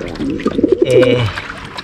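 Racing pigeons coo in a few soft, throaty rolling calls close by, with a brief trickle of water behind them.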